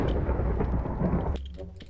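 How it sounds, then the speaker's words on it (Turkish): Lightning strike in the Minecraft video game, a loud crack of thunder that rumbles and then fades away toward the end, with no voices. "Lan oha şimşek çarptı."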